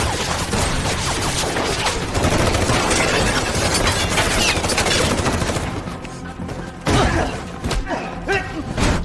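Sustained loud gunfire in a film shootout between rival gangs, dense overlapping bursts of automatic fire and shots with crashes and impacts, filling the scene almost continuously with brief lulls.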